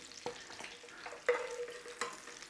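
Chorizo renders its fat in a pan for a one-pot chorizo pasta and sizzles quietly and steadily, broken by a few soft scrapes and clicks as it is stirred.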